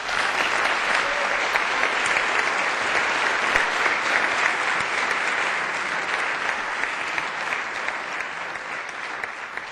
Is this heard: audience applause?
yes